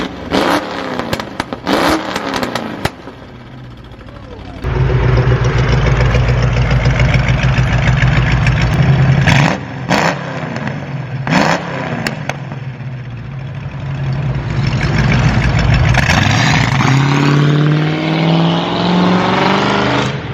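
A 1968 Mustang Fastback with a Coyote V8 swap and a loud, aggressive exhaust barks through several short, sharp revs, then settles into long, sustained throttle pulls, rising and falling close by.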